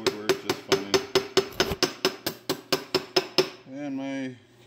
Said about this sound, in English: These are body hammers.